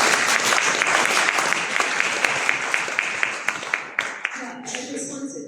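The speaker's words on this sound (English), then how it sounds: "Please clap." Audience applause at a forum, dense clapping that thins into a few scattered individual claps and dies away as a voice begins to speak.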